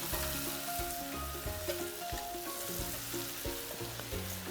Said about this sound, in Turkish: Körmenlerle de şöyle bir iki defa çevirdikten sonra otlarımı ilave ediyorum hemen ardından.